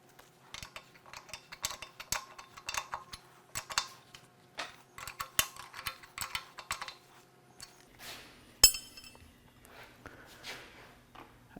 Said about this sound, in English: you'll want to install the two fittings that came with the kit using a